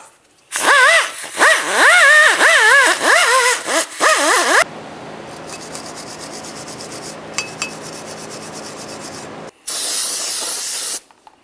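On a 2000-2006 Chevrolet Tahoe, the axle mating surface and the back of the brake rotor are cleaned with a loud wavering rasp followed by a long steady rubbing hiss and a final short burst, all close.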